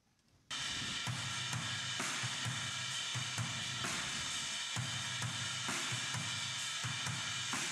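Tom drum track from a worship song's drum kit, soloed during a mixing session, with steady repeated hits and a bright, busy upper band running continuously after a brief quiet start.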